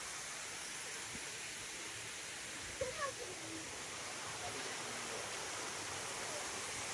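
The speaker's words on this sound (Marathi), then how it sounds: "हा डॅम आहे तिकडे आणि हे पाणी वाहतंय" Water rushes steadily in a stream flowing down from a dam near a temple, a faint, constant wash heard from a distance with a brief soft disturbance midway.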